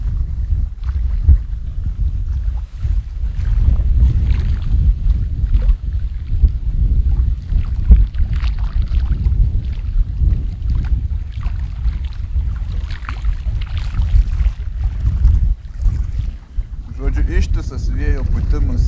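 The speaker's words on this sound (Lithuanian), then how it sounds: "Ištisas vėjo putimas į veidą." Strong cold wind blowing at a riverbank while fishing, loud low buffeting gusts hitting the microphone continuously, with faint voices underneath.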